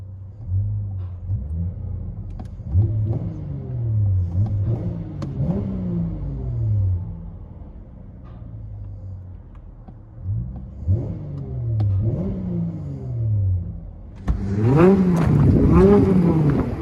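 A 2016 Dodge Charger 3.6L V6 with dual exhaust and a rear resonator delete, heard from inside the cabin: a deep, smooth engine hum that rises and falls through several revs, swelling louder near the end.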